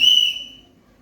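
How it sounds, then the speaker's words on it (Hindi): A single sharp whistle blast, loud and close, shrill for a fraction of a second and then trailing off into quiet, blown during a school drama performance. "मेरे एक सीटी पर सब लोग एक लाइन में खड़े हो जाएंगे"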